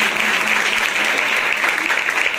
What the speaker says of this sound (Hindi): जोरदार तालियां से खुदा उनकी सलामत करिए